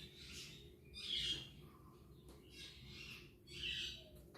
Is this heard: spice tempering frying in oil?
no